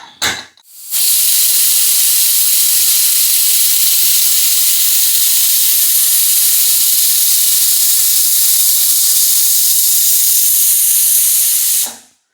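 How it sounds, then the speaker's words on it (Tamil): A pressure cooker full of rice uppuma lets off a loud, continuous hiss of escaping steam that lasts about eleven seconds, then cuts off abruptly, with brief clatter at the start and end. "குக்கர் மூடி ஒரு 2 விசில் வரட்டும்."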